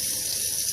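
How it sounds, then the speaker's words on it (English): Hot water runs steadily from a tap, a continuous bright hissing rush with no pauses through the brief moment. "Let's get the hot water so I don't burn my"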